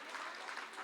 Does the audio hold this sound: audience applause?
yes